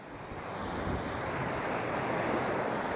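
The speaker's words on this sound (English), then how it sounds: "Wow, windy down here." Strong wind buffets the microphone over the roar of surf on a rocky seashore in Malta, a constant loud rush with no speech.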